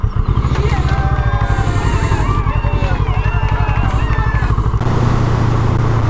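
A Kawasaki ER6N motorcycle's engine drones loud and close as the rider pulls away, a steady throbbing rumble that holds throughout with a slight rise in pitch.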